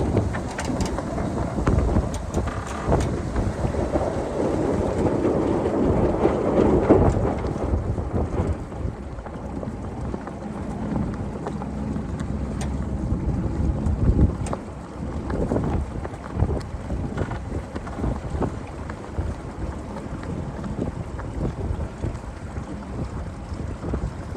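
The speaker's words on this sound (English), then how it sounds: "Oh, big wind." Strong gusting wind buffets the microphone aboard a sailboat during a sailing lesson, a loud continuous roar with heavy low rumble, surging hardest in the first half and staying steady with occasional thumps, with no talk.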